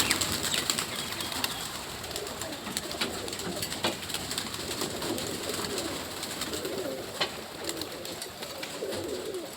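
Pigeons coo softly in a loose flock after being given a bath, with repeated low throaty calls and occasional wing flaps over a steady outdoor background.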